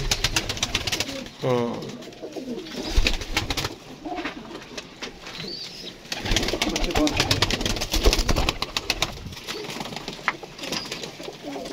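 Pigeons coo close by in soft throaty rolls, with one clear trilling coo near the start over a busy background of rustling and handling noise, and someone speaks intermittently.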